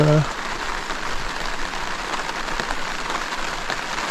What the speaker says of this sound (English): It's raining out, and this is our destination.